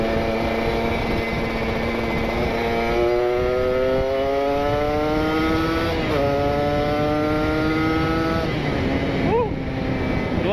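A Kawasaki Ninja RR two-stroke with a PWK28 carburettor and R9 Neo Muggelo carbon exhaust revs in rising, buzzing sweeps, loud and close, with a couple of sharp throttle blips near the end.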